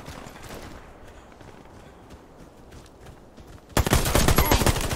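Sniper rifle gunfire in a shooter video game: a faint, distant crackle of shots gives way to a sudden, loud burst of rapid fire near the end.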